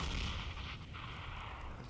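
A grenade and Molotov go off in Counter-Strike, with a loud booming blast at the start that fades into a sustained roaring, crackling burn with no voices.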